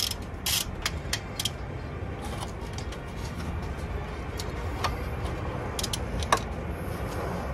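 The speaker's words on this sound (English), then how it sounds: "now we can release the tensioner" Belt tensioner being released on a 2014 Audi A8 D4 3.0 TDI, heard as a handful of quiet, scattered mechanical clicks and creaks over a low, steady background hum.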